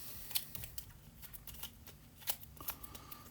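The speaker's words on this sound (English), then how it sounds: "we're going to take the 4 and shuffle them up" A small deck of cards is shuffled by hand during a tabletop strategy game, with a run of quiet, crisp riffling flicks and soft taps close by and no talking.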